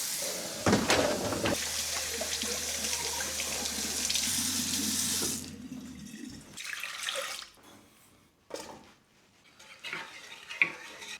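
Kitchen tap water runs into a sink while breakfast dishes are washed, a steady close rush for several seconds, then stops, followed by intermittent clinks of dishes and cutlery being handled.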